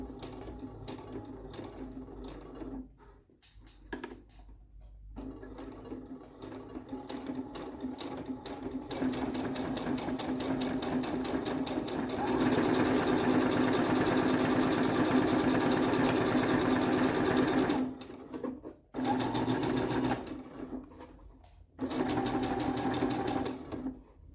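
Domestic sewing machine stitching fabric during a beginner sewing exercise, running in steady mechanical bursts with a few short stops and restarts, close and fairly loud, no talking.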